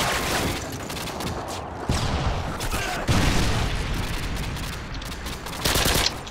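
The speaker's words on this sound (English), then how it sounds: "Friendly predator missile incoming." Predator missile explosions and heavy gunfire fill a Call of Duty MW2 match, with loud booming blasts and rattling bursts of fire over a continuous battle din, the sharpest impacts striking near the two- and three-second marks.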